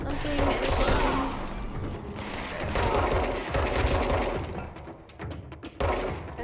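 Gunfire in the video game Control: loud, dense bursts of rapid shots come in several waves, with short gaps and scattered single cracks toward the end. A voice may be talking underneath.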